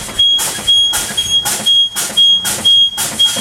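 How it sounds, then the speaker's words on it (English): A high, thin warning buzzer on a truck dashboard sounds in repeated short stretches as the air brakes are pumped down to about 60 psi during a CDL pre-trip inspection, with loud rhythmic bursts of hissing air, about one every 0.7 seconds, and no talk. "I should get a low air warning light or buzzer come on the dash"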